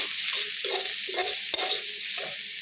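Helencha greens fry in a pan with a steady, close sizzle, broken by soft scraping stirs at irregular intervals.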